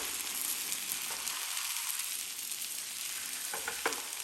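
Beaten eggs for a mushroom and brie omelette sizzle steadily in a hot pan, a continuous hissy fry with a few soft scraping touches near the end and no talking.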